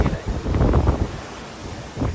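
Strong wind gusts buffet the microphone at an oceanfront beach in Jupiter, with a heavy, fluctuating low rumble that surges and eases over a couple of seconds, with no voices heard.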